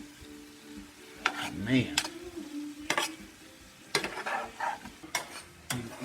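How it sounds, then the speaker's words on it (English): Shrimp and lobster frying in a pan, a faint low sizzle broken by clinks and scrapes of a utensil, with someone briefly speaking over it. "Got the shrimp cooking up in there with them lobster"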